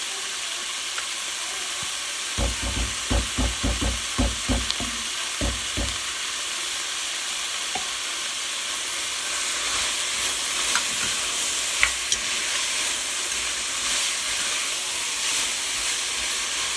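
Fresh garlic frying in a pan for beef barley stew, a steady sizzle and hiss with a burst of sharp crackles and pops early on, then a continuous frying hiss throughout.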